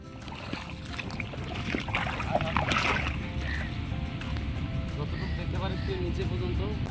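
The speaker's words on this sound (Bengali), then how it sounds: "এদিকে আমরা সমুদ্রের গর্জন শুনতে পাচ্ছি" Sea waves roaring along the shore of St Martin's Island, a continuous broad wash of surf with rising swells and splashes, heard steadily and fairly close.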